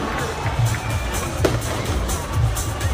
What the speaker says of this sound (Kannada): ಜೋರಾದ ಚಪ್ಪಾಳೆಯೊಂದಿಗೆ ಸ್ವಾಗತಿಸಿ